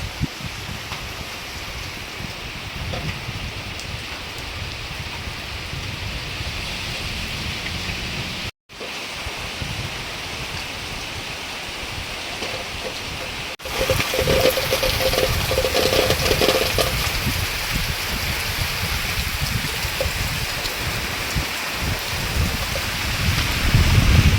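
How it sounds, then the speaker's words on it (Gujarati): Heavy monsoon rain pours in a steady, loud hiss with wind buffeting the microphone, briefly cutting out and then growing denser and louder for the rest of the stretch, with no talking. "જુઓ ભાઈ, વરસાદ જબરજસ્ત ચાલુ થઈ ગયેલો છે"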